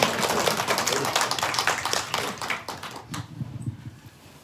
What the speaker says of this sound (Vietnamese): vỗ tay để cổ vỗ cho thầy